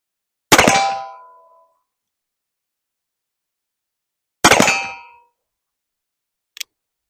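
Shots from an M1861 Spiller & Burr revolver striking steel targets at 25 yards: two loud ringing clangs several seconds apart that decay slowly, then a brief faint tick.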